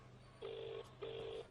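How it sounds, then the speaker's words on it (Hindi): Two bursts of an electronic telephone ring, each lasting about 0.4 seconds with a short gap between them. The rings are clear and moderately near, set over a low steady hum in a quiet indoor room. "एक मिनट, मैं एक फोन कर लेता हूँ।"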